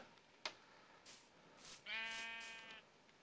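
A sheep in Minecraft bleats once, a wavering nasal cry heard clearly after a few soft clicks and thumps, with no talking.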